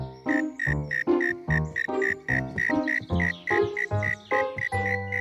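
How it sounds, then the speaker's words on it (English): A cartoon cricket chirps in a steady rhythmic series of about ten close, loud pulses, each a bright tonal trill over a low resonant tone, with no talking. "It's from down there. Right at our feet. A cricket."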